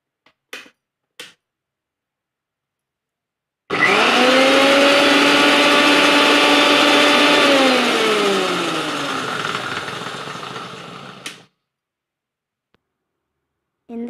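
A kitchen blender whirs loudly for about eight seconds while blending a homemade strawberry milkshake with ice cream, then the motor winds down and stops, with brief clicks before and after.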